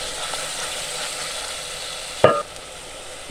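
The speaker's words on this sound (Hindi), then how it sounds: "अच्छा सा हम इसको भून लेंगे" Onion frying with garlic and ginger paste in a pan for a potato and egg curry, giving a steady close sizzle with a brief clatter of stirring near the end.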